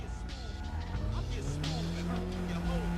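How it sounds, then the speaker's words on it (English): In a driving video game, a car engine roars while tires screech and a short collision thump lands, with a voice talking over the action. "We hit that car that was 5 feet from us."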